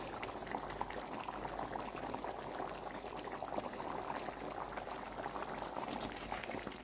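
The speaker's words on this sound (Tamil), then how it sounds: "சாம்பார் நன்றாக கொதித்து இறக்குவதற்கு கிட்ட நாங்கள் பெருங்காய போடுறோம்" A pot of sambar boils steadily, thick bubbling and popping at a low, even level, close by and continuous, with no voices over it.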